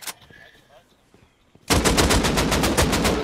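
AK rifle gunfire in the survival game Rust bursts in loud and close after a quiet start with a few faint clicks, a rapid automatic stream of evenly spaced shots that runs without pause to the end.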